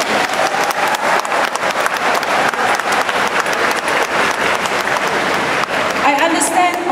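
Loud, sustained applause from an audience at a political speech in Malaysia, dense clapping filling the whole stretch without a break.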